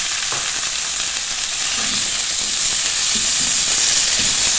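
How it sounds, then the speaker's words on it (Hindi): Chicken cut into thin strips sizzles in a hot pan for shawarma pockets, a steady close frying hiss with occasional light stirring knocks and no voices. "इसको हमने फ्राई करना है इतना कि इसका कलर जो है चेंज हो जाए"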